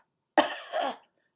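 One person gives a single close, rough cough in two quick bursts, isolated against silence.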